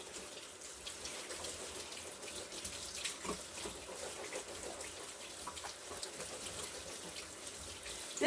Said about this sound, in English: I'm rinsing them really well.